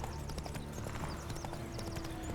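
Horse hooves clip-clop at a steady trotting rhythm in The Witcher 3, with game ambience behind the repeated hoofbeats and no talk.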